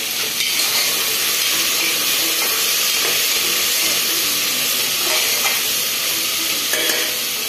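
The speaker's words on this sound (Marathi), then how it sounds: "ते थोडं फिरवून घेऊ." Dry fruit masale bhat sizzles and steams in a pan while it is stirred, a constant hissing sizzle with soft scraping strokes, close and loud, with no voices.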